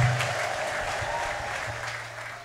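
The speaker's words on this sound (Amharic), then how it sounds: "እልልታ ጭብጨባ ለናዝሬቱ ኢየሱስ" A church congregation breaks into sustained applause mixed with high ululation, a broad crowd wash of clapping with warbling cries rising over it before the sound slowly tapers.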